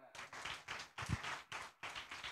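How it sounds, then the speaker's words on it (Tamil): Church congregation clapping hands together in rhythmic bursts, several groups of quick overlapping claps with short pauses between, moderately near and without speech. "நல்லா கைதட்டு கொடுத்துருங்களேன்"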